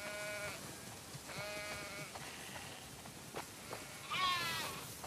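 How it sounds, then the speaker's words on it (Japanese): Several sheep bleat in The Last of Us Part 2, a harmonic call at the start, another a second later, and a louder, brighter cry near the end over steady game ambience. "うわ、羊がたくさん。"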